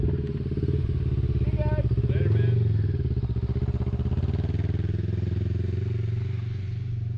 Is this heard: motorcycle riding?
yes